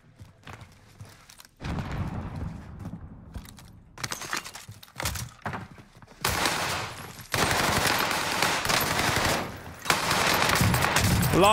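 Rapid automatic gunfire from a fast-firing weapon in the video game Warzone, loud bursts crackling in dense runs that grow more continuous and intense toward the end.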